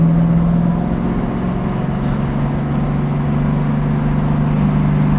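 A 1967 Pontiac Firebird engine on its first drive gives a steady, continuous low drone with an even hum, close and constant throughout, with no voices.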